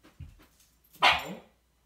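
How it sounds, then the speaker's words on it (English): A dog yelps indoors during a place-training lesson: a couple of soft low whines, then one loud sharp yelp close by that trails off, with no talk. "It's funny that he's yelping."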